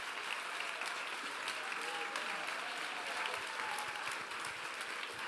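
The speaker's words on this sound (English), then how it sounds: "Yes, a big round of applause for Thomas Weitz" Applause from the hall at a European Greens party congress in Vienna, a dense, continuous clapping that holds steady from start to finish.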